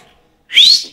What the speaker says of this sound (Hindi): आप बहुत अच्छे सीटी बजाते एक बार सीटी बजाओ ना